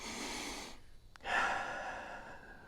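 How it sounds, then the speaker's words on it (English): A person takes a deep breath beside a horse, a long breathy inhale and exhale that is close and soft, with no speech. "Maybe I'll take a deep breath."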